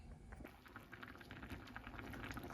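A pot of fish with carrots and bell peppers simmers, giving steady soft bubbling and popping at low volume, continuous and unbroken, with no voices.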